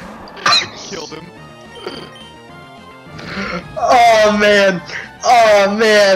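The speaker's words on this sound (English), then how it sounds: "I just coughed really hard" A person coughs hard during a Pokemon Ruby gaming session, with loud raspy bursts near the start, then strained vocal sounds and game audio following.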